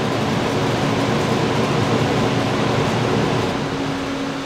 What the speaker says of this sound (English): what you're hearing right now is the actual furnace fan kicking on